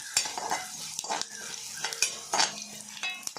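Coriander is frying in a pan over a gas flame, a close, bright sizzle broken by repeated scraping stir strokes and light utensil taps, with no voices.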